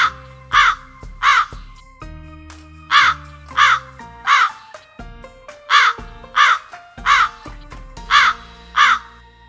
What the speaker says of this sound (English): Crows say caw-caw.